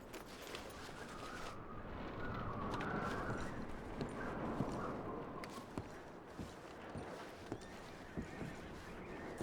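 Horses in Red Dead Redemption 2 give a neigh and whinny over a steady wash of outdoor ambience, with a few hoof-like clip-clops and soft thumps scattered through.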